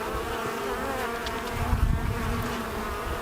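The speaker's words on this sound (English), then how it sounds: "I just want to make sure I always keep in mind that this is an active producing hive, producing eggs, producing bees." Honeybees at an open hive being inspected after a cold Texas winter, a dense continuous buzzing swarm close by, with individual bees droning past.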